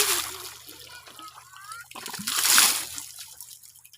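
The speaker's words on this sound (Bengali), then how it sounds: "স্কুলে যাবে, গা ধুচ্ছে।" Water poured and splashing as a boy is bathed before school, a close, uneven sloshing pour with a brief burst of louder splatter, and a voice speaks faintly at times.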